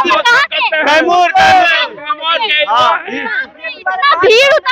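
Dense rally crowd gathered for Tejashwi Yadav, many voices shouting and whooping together at close range, loud and continuous with overlapping calls and chatter throughout.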